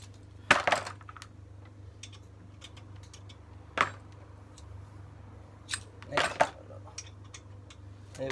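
Allen key working the brake caliper slider bolts on a front brake assembly of a Vauxhall Astra Mk4: a few sharp metallic clicks and clinks, spaced irregularly, close by against a low steady hum.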